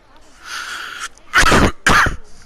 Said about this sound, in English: Don't want to be coughing in this day and age